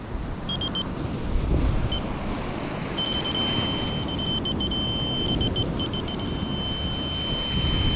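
Several short electronic beeps from a metal detector, then a long steady tone with brief breaks, over loud wind and surf rumble outdoors on a beach at Jastrzębia Góra.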